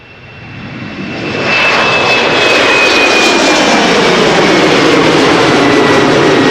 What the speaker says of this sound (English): Britty Hopper, Embraer 190, flying KLM flight 971.